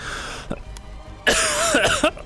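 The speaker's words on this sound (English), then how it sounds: "Sorry, I'm coughing." Several sharp coughs from one person, a brief one early and then a louder harsh burst of coughing with rough throat noise, close to the microphone.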